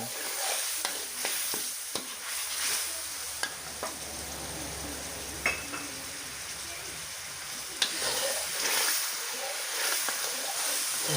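Aromatics and chili paste stir-fry in a pan with water added while clams wait to go in, giving a steady sizzle broken by scraping stirs and light splatters, moderately close, with a voice talking now and then.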